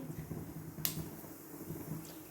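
Mustard seeds pop and crackle in hot oil, small sharp pops scattered and irregular, with one brighter snap standing out against a low steady sizzle.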